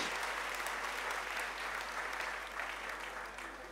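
A church congregation claps steadily indoors at a Sunday morning service, sustained applause from many hands that fades slightly toward the end.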